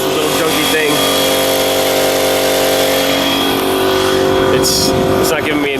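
A pneumatic air tool runs on a small, weak compressor during a Mercedes G-wagen restoration, giving a loud continuous whirring drone that wavers slightly as pressure sags.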